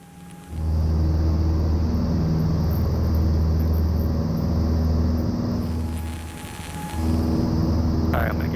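Steady engine drone of a small training airplane during landing practice, loud and continuous from about half a second in, dipping briefly near the end before surging again, with some wind rumble.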